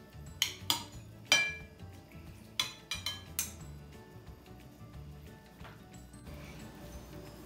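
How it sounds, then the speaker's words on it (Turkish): Two spoons stir a Russian salad in a bowl, making a few sharp metallic clinks and scrapes in the first half, then softer, sparser tapping and faint background noise. "İki kaşıkla karıştırmak tabii ki de daha güzel oluyor."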